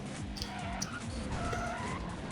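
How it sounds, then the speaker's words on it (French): A car drifts and skids in the Need For Speed World racing game, tires squealing in drawn-out wavering tones over a steady engine roar, loud and continuous. "Et j'ai raté mon dérapage."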